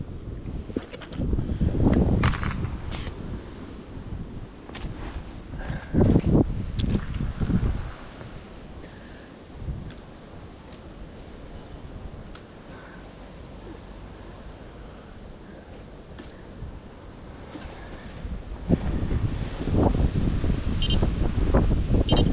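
Gusty wind blows outdoors at a fishing spot by the water, too strong for umbrellas. Broadband rushing noise swells in louder buffets early and again at the end, with calmer stretches between.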